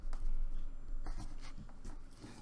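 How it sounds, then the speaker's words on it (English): A marker scratches and taps on a board while dots are marked and erased during a geometry lesson, a few brief scraping strokes close by with no talk. "I'll mark it again, I'll erase these two dots."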